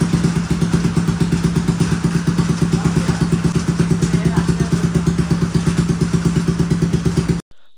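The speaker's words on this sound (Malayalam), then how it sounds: "അങ്ങനെ വണ്ടി സ്റ്റാർട്ടായിട്ടുണ്ട്." A restored Bajaj Pulsar NS200 motorcycle engine runs just after starting, a steady, loud, rapid pulsing idle that continues evenly for several seconds and then cuts off abruptly.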